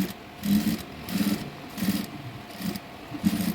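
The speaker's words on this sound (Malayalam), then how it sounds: "ഇനി ഇപ്പുറം സൈഡ് കൂടി നമുക്കൊന്ന് തയ്ച്ചെടുക്കണം." A sewing machine stitches a neckline design in rhythmic bursts, several short whirring runs of stitching separated by brief pauses, close and clear.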